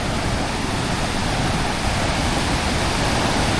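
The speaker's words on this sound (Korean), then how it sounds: "오 물소리 미쳤다" Rushing river water near Don Det island in southern Laos pours in a loud, unbroken roar, close and steady with no voices.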